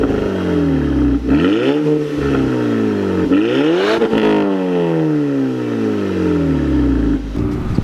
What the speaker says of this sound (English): It sounds really great with that exhaust note back there.